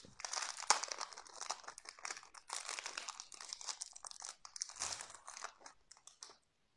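Plastic packaging crinkles and crunches as a pack of 36 laminated plastic stencils with two metal rings is unboxed, giving close, irregular rustling bursts with no talk.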